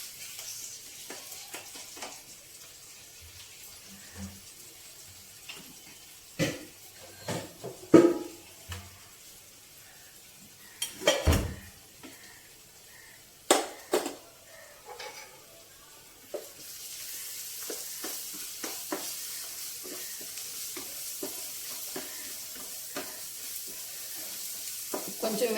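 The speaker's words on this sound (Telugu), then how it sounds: "అల్లం వెల్లుల్లి ఇది కొంచెం వేగాలి." Ginger garlic paste sizzles gently in a pan, a steady low frying hiss with intermittent scraping and stirring clatter from a spoon, close by.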